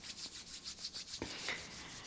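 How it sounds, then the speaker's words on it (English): Palms of the hands rubbed briskly together at the start of a kundalini meditation, a close, dry swishing in quick rhythmic strokes with no talking. "start to rub the palms of the hands"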